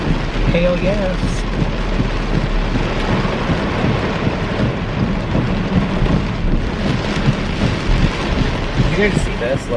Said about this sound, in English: Is that hail?